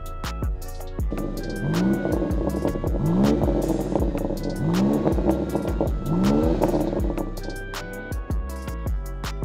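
A BMW M2 G87 with an aftermarket exhaust and Miltech tips revs several times in a row, each rise and fall of the engine loud and close over a steady idle, with no talking.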